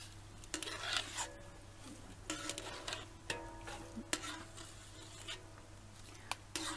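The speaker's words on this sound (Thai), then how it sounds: "คนให้ตัวน้ำตาลละลายเข้ากับน้ำมันนะคะ" Fried taro is stirred in hot oil as sugar melts into it, making close scraping and rubbing strokes of a utensil in the pan over a soft, constant crackle.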